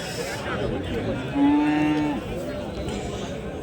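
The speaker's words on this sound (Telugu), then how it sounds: "దూడలు అబ్బా ఏముండాయి నాయన దూడలు" A calf gives a clear, drawn-out moo over a low murmur of voices nearby at a calf market in Chintamani.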